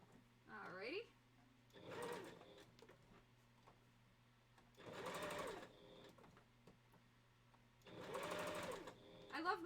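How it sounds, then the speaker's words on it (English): A home sewing machine stitches in three separate bursts, each a dense, fast mechanical whirr lasting about a second, with quiet pauses in between. "I love my sewing machine."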